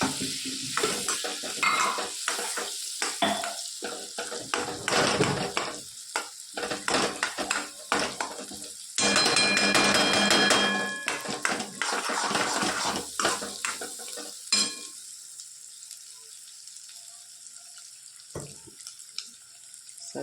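Soaked poha with crushed peanuts, turmeric, salt, sugar and lemon juice is stirred in a pan with a spoon, giving repeated scraping strokes over a light sizzle and some splashing water, with no talking.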